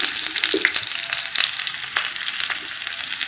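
Green chili, tomato and onion fry in hot oil with a loud, dense sizzle, scattered crackles and stirring scrapes running continuously, no voices.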